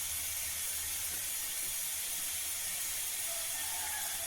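Pressure cooker on the stove while soya chunks cook, letting off a steady, continuous steam hiss that holds at an even level throughout with no voices.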